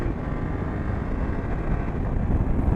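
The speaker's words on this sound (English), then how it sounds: "right now we're doing third gear, 40 miles per hour, and if I hit the gas, the throttle" A BMW F800GS motorcycle accelerates in third gear at about 40 mph, giving a loud, continuous engine rumble mixed with heavy wind noise that swells slightly toward the end, with no voices.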